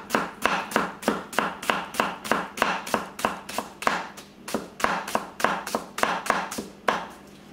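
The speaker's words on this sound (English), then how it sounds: "We're going to go ahead and blast through the other half of this onion at higher speed" A thin Kikuichi Swedish Warikomi Damascus gyuto chops quickly through a hard onion, crisp sharp knocks of the blade on the board in a fast, steady rhythm with a brief pause midway, close and clear with no talk.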